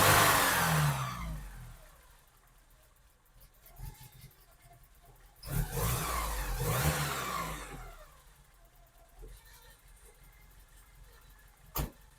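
A Porsche 944 that has sat unused for over three years cranks and fires, followed by a couple of rising revs and a settling idle, with a diesel car idling faintly in the background.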